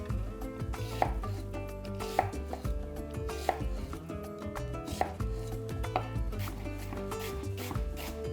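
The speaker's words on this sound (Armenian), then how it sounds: "գլուխ սոխ, կտրատում ենք մանր եւ տապակում։" An onion finely chopped with a knife on a board, rapid steady knife strikes in a continuous close rhythm with a few sharper louder hits, no talking.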